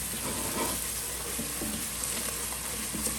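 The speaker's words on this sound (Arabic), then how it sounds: "نسيبه بقى يسخن، نقلب البصلايه" Onion pieces fry in a hot pan, giving a steady close sizzle broken by scraping stirs of the spoon against the pan bottom.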